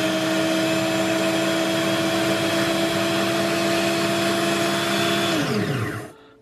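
A Parkside PBSG 95 D5 95-watt, 1350 rpm drill bit sharpener grinds a 6 mm HSS bit on its stone, a loud steady motor hum and whine that runs evenly, then winds down and falls silent at the end.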